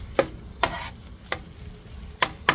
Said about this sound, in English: Frying up real nice.